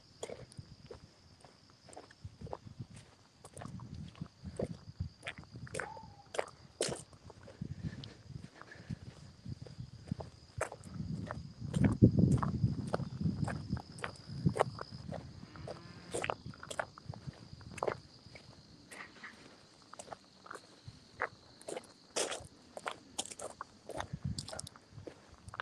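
Goats and sheep grazing in a fenced pasture, with steady close crunching and tearing of grass and scattered footsteps across the ground, over a faint constant insect hum.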